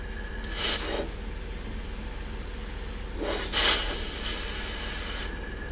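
An airbrush being cleaned by spraying through it during a model starship hull build gives two sharp hissing bursts, a brief one and then a longer sustained spray, close to the mic with quiet pauses between.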